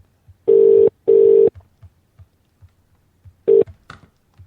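A telephone being dialed gives out a few loud, clean keypad tones: two longer beeps in quick succession, a pause, then a shorter tone followed by faint clicks.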